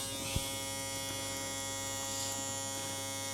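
A rechargeable Aberlite Touch 2 head shaver buzzes steadily and quietly as it works over a scalp, a continuous close electric whir with slight variations in pitch as it moves.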